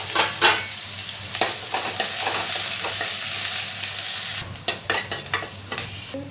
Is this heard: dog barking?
no